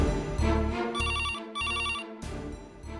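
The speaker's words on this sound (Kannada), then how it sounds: "ನೋಡಮ್ಮ, ಯಾರ್ದು ಫೋನ್?" A telephone rings indoors in a household scene with steady tonal bursts separated by short gaps. The ringing is moderately loud and carries over a low musical background.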